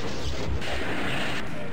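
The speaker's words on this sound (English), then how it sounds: "You hear that? Yep, there's a spider mastermind just right there." Spider Mastermind in the classic DOOM game, heavy rapid gunfire thuds and crashing blasts, loud and continuous over a short stretch.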